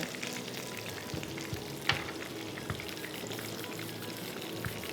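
Cream sauce with crushed oregano and parsley being stirred in a hot pan for chicken parmesan, giving a steady close sizzle with soft scraping strokes and one sharper clink of the spoon, with no talking.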